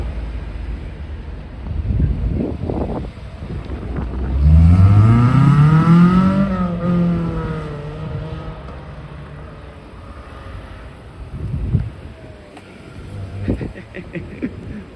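A sports car passing on a street in Le Havre, its engine note swelling as it approaches and then fading away, with wind rumble around it and no clear talk.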